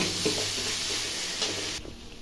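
Green chillies sauté in hot oil in a pan for a puri kurma, giving a steady loud sizzle and crackle that drops off abruptly near the end.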